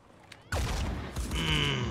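A single sharp gunshot in the video game Phoenix Point, a sudden loud crack followed by a ringing, swelling in-game effect tail lasting over a second, with no talking.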